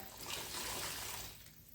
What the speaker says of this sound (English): I've just got some warm soapy water in my bucket,